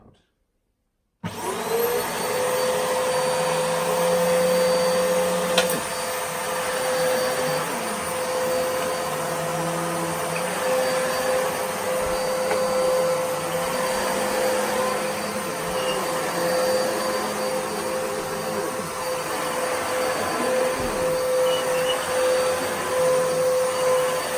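An Electrolux Powerlite Petlover vacuum cleaner with a worn-out belt starts up after a second of silence and runs steadily and loudly, with a constant whine and a low motor drone shifting slightly in pitch.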